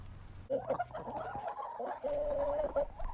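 Ducks and chickens murmur and cluck softly nearby, with a low steady background hum.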